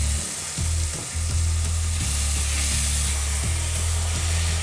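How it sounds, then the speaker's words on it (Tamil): Tomatoes go into sautéed onions in a pan for a sardine fish curry (mathi meen kulambu), giving a steady, close sizzle and crackle of frying throughout with no talking. "வெங்காயம் வதங்கிடுச்சு. இப்போ தக்காளி போட்டுக்கலாம்."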